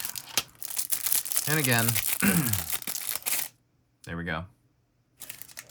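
A cheap plastic bag crinkles and rustles loudly up close while a fountain pen is unpacked, in dense crackling bursts, with someone speaking over and between the noise.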